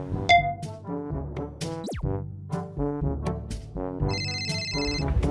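A bright, melodic phone ringtone plays continuously, its electronic tones repeating in a cheerful pattern with no talking.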